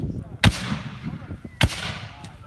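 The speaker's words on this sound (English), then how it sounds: "A solid volley of lead all the way down the line. Commence fire!" Civil War reenactment musket volleys fired by a line of infantry, two heavy booming blasts about a second apart with rumbling tails, loud and somewhat distant, against outdoor background noise.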